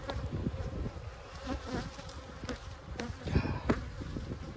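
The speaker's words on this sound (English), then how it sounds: "bees will be able to come at me a lot easier" Honeybees swarm and buzz around an abandoned, poorly managed hive, a dense steady hum with individual insects zipping close past now and then, no talking.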